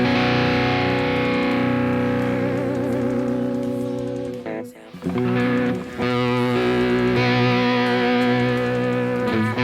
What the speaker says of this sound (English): I'm mostly a fan of chorus and vibrato or tremolo effects. So let's see how that sounds.